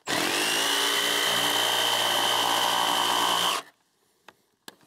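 A Milwaukee reciprocating saw fitted with a Diablo blade cuts through wood for stair stringers, a loud, close, continuous buzzing whine lasting about three and a half seconds, then stopping, followed by a couple of light knocks.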